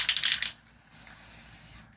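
A can of spray paint puts out a short hissing burst with a faint rattle, pauses briefly, then gives a longer, softer steady hiss.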